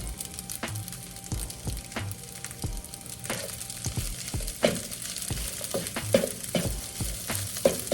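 Ginger, garlic and onions frying over fairly high heat for homemade hibachi, a soft continuous sizzle broken by repeated knocks and scrapes of a utensil stirring the pan.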